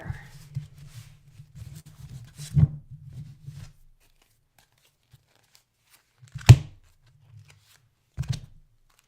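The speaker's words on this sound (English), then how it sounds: "Just one more shuffle here." Riffling and flicking of a tarot deck, a steady soft shuffle for several seconds, then a few sharp isolated snaps and slaps after a pause.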